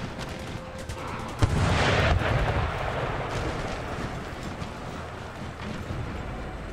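Cannon artillery firing shrapnel shot in Empire Total War, a loud booming blast followed by a long rumbling roar of battle noise that slowly fades.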